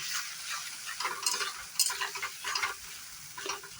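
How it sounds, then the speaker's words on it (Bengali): A spice mixture fries in a pan while being stirred, making a soft, even sizzle broken by repeated scraping strokes of the spoon, moderately close and with no talking. "মশলাটা ভাজতে থাকবো।"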